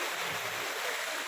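Water in a river rushes and burbles steadily, a constant close-up wash of noise with no voices.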